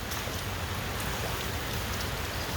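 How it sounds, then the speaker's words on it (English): Heavy rain pours steadily during Hurricane Delta, a dense, loud, unbroken hiss of drops drumming on surfaces all around, with no talking. "It's raining hard."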